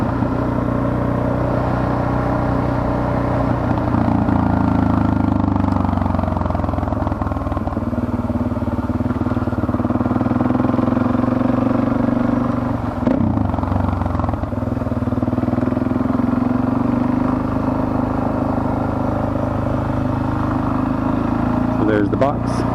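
A Suzuki DRZ motorcycle engine idles and runs steadily nearby, a continuous low rumble that holds throughout while a rider talks over it.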